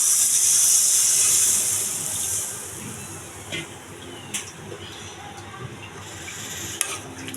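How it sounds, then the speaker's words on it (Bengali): Pre-heated water goes into a cooking curry of elephant foot yam and hilsa fish, a brief hissing pour and steam sizzle at the start that fades into a low simmer with occasional utensil clinks. "তো আগে থেকে গরম করে নেওয়া পানি আমি এখন দিয়ে দেবো।"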